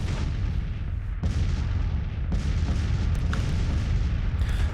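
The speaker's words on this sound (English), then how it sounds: "for the last couple of hours it's just been a cannon exchange between the armies" Cannon fire traded between armies on a battlefield in Grand Tactician, a Civil War strategy game: a steady roar of distant artillery with several heavier booms spaced a second or so apart, and no voices.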